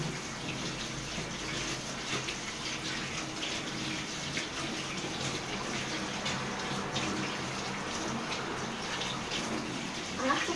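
Water runs steadily from a tap as someone washes beneath it, a constant close splashing rush with no pauses.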